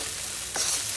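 Shrimp fried rice with chicken frying in a pan with sesame seed oil, giving a steady close sizzle with a brief stirring scrape midway, and no talking.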